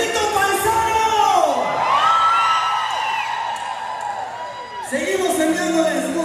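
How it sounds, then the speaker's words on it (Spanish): A live concert audience in Las Vegas cheers and whoops over the music while a long drawn-out shout rises and falls, loud and close. "¡Y el grito paisano!"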